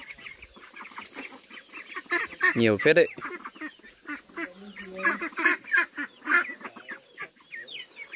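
A flock of young ducklings near a forest farm gives busy overlapping peeps and quacks close by, with a man's brief remark over them.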